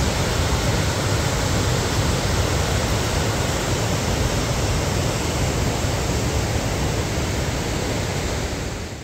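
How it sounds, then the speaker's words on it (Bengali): Pykara Falls in Ooty, river water cascading down the hillside in steps: a loud, constant broadband roar of falling water, close and unbroken throughout, with no voices. "পাইকারা ফলস, নদীর জল পাহাড় বেয়ে ধাপে ধাপে নিচে নেমে এসে তৈরি করেছে এই মনোমুগ্ধকর ঝর্ণা"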